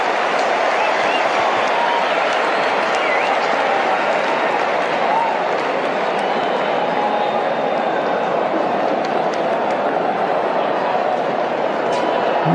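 A stadium crowd at an international cricket match roars and applauds after Tim Southee bowls a super over, a dense, continuous wall of cheering and clapping with a commentator's voice mixed in.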